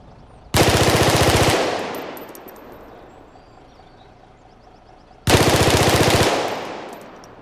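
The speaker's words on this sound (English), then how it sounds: "the initial attack of the M16 will be increased by 4 decibels" An M16 rifle firing in an Unreal Engine 5 audio demo: two loud, close bursts of rapid automatic fire, each about a second long, separated by a few seconds. Each burst rings into a long fading echo, with no talking.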